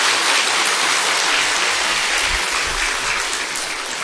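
Church congregation applauding its choir, a loud, even wash of clapping that holds without a break.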